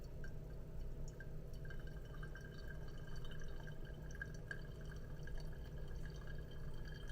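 Hot water is poured slowly over ground Kenyan AA coffee in a Hario V60 dripper, making a quiet, continuous trickle and drip that runs steadily throughout at close range.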